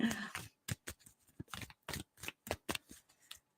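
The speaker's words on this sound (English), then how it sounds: "I'm gonna keep shuffling" Tarot cards are shuffled by hand in quick irregular bursts of crisp riffling and slapping, close and fairly quiet, with brief pauses between passes and a voice faintly present.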